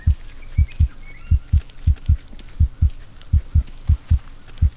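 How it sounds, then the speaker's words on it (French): A steady heartbeat sound effect from the survival game Green Hell thumps in low, paired lub-dub beats at a regular, fairly quick pace, prominent over faint jungle ambience with occasional bird chirps. "ce battement de cœur là"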